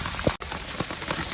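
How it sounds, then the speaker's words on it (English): Hail pelts a tent fabric in a dense, constant patter, close and fairly loud, with a brief dropout partway through and a few sharper individual hits. "I had a hailstorm like this"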